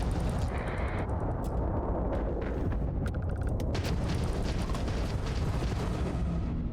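Missile strikes on a spaceship in the video game Starfield, heavy rumbling blasts and crackling impacts over a constant low roar, loud and dense, with sharp bursts of debris-like clatter and no talk.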